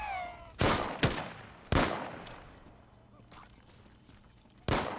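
Gunfire in the zombie game No More Room in Hell 2: four sharp, loud shots spaced irregularly, each with a decaying echo tail, with a faint voice murmuring under the gaps.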